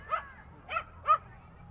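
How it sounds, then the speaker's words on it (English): A dog barks three times at a lacrosse game between Ida B Wells and Grant high schools, each short yipping bark spaced about half a second apart, fairly faint and off in the distance over quiet background. "You can hear the dog behind us called it."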